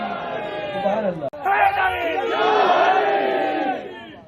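A large gathering at a Shia religious address in Ahmedabad answers with a loud, unified chanted slogan, many voices rising together in a sustained roar after a brief break, close and dense.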